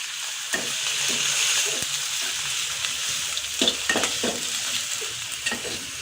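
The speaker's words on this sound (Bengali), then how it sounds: "একটু কিছুক্ষণ ভাজবো যাতে কাঁচা ভাবটা চলে যায়" Spice paste frying in a pan for Bengali chicken, a continuous bright sizzle with regular scraping strokes of a spoon stirring it, close and alone.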